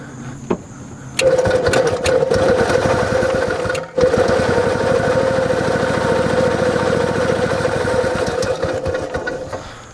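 A golf cart engine runs steadily after being given gas, a loud continuous mechanical drone with a brief dip partway through before settling back into a constant idle-like hum.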